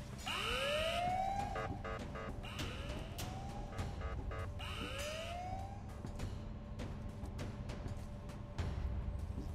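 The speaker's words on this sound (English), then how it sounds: "Sound the alarm." Alarm siren in the Ice Scream 5 video game, rising and falling wails that repeat about three times over a steady game background, fairly loud and with no talking.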